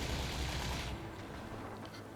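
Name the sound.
gunfire in the video game Horizon Forbidden West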